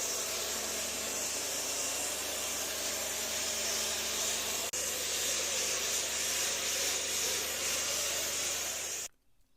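Water sprays steadily and close up onto a wrecked Harley Lowrider motorcycle, a continuous loud hiss lasting several seconds with a brief break, then it cuts off abruptly.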